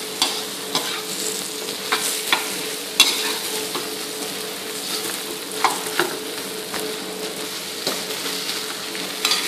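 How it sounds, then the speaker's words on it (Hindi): Boiled potatoes being stirred together with spices into a masala filling for dosa, a steady scraping of spoon against pan with soft sizzling and a few sharper clanks, close and moderately loud with no talking. "अभी पूरा मसाला एक साथ मिक्स करना है अच्छे से।"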